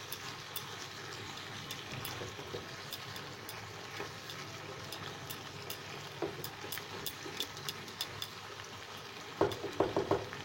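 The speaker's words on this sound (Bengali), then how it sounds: "একটু ক্রাশ করে নিয়ে আমি এটা ছড়িয়ে দিলাম, দিয়ে জাস্ট মিশিয়ে দিচ্ছি।" Masala okra stirred in a pan, a faint steady sizzle with scattered light scrapes and clicks of the spoon, growing into a few louder clanks near the end, close and quiet.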